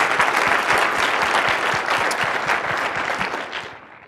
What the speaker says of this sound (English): Let's give a round of applause to Hiten.